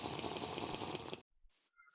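Rushing water in the Minecraft TerraFirmaCraft modpack pours in a loud, steady wash, then cuts off abruptly, leaving near silence and a faint high chime.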